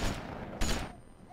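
Two sharp gunshot bursts crack out in The Walking Dead 2 video game, close and loud, about half a second apart, followed by a brief quiet tail.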